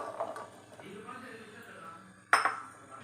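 Almonds dry roasting in a pan, with soft scraping and a sharp metallic clink of a utensil against the pan near the end, heard beneath ongoing talk.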